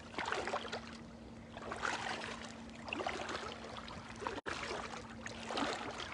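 Water of the Sea of Galilee near Capernaum laps and splashes close by in a steady wash, with a faint constant hum underneath.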